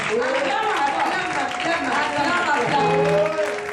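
A church congregation applauding and cheering, a dense wash of clapping and shouting voices, steady and loud throughout, with someone speaking over the noise.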